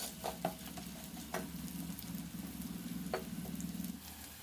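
Medium-sized carrot pieces fry in a pan for paneer biryani, a soft sizzle with a low bubbling undertone and scattered scraping stirs, quiet and close, with no speech.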